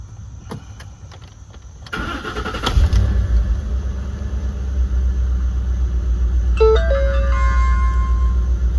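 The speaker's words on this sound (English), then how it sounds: "Engine sounds great" A 2010 Ford F-150 XLT V8 starts after an oil change, cranking and catching into a steady, close idle rumble, with brief electronic chimes and beeps sounding partway through.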